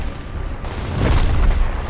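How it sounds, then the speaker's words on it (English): A frag grenade detonates in Gears of War, a dull low boom that swells midway and rumbles on with broadband noise beneath faint high game tones. "Throwing frag!"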